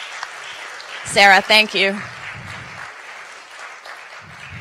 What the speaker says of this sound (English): Let's all applaud for wonderful Sarah and her work organizing this